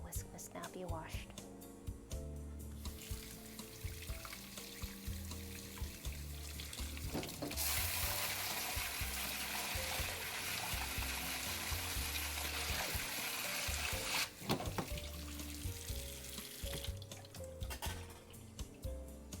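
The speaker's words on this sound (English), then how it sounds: "The whisk must now be washed." A kitchen whisk rinsed under a running tap, a quiet steady gush of water in the middle stretch framed by softer clinks and handling sounds, heard close and faint.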